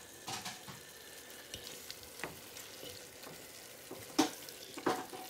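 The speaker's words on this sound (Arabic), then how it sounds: "نحط عليها اللحمه هي، وغادي نحرك العناصر، نحرك العناصر مع بعض" Meat stirred with other ingredients in a cooking pot for a beef and spinach tajine, a faint low sizzle with a few soft scrapes and clinks, the louder knocks near the end.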